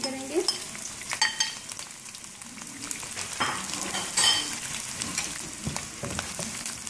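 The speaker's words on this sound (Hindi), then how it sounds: "फ्राई करेंगे प्याज और लहसुन को" Sliced onion and finely chopped garlic fry steadily in a pan over a medium flame, a continuous close sizzle with soft stirring scrapes and small pops throughout, no talking.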